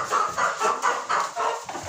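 Russian crested chickens with chintz-coloured plumage cluck in a coop at evening feeding, giving a steady rhythm of repeated, fairly close clucks with no talk over them.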